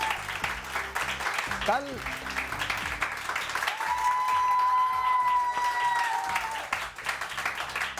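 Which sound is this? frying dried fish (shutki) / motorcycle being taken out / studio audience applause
studio audience applause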